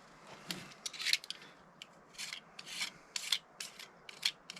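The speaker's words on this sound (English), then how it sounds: "Super lightweight sand with maybe 120 grit." Boat gel coat is lightly hand-sanded with 120 grit paper on a trimaran, giving soft, close rasping strokes in an irregular rhythm at low volume.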